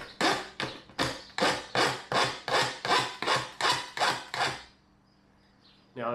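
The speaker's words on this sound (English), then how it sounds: "I'm just going to come back with the file and deburr that." A hand file deburrs a freshly cut metal edge with about eleven steady, evenly spaced rasping strokes close by, followed by a short quiet stretch.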